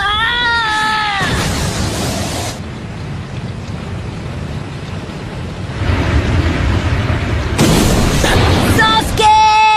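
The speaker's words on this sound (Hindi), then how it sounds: "Fire style dragon flame jutsu." Anime fire-style dragon flame jutsu effect from a Naruto versus Sasuke battle: a loud, sustained roaring whoosh and rumble like a blast of flame, bracketed by shouting voices at the start and end.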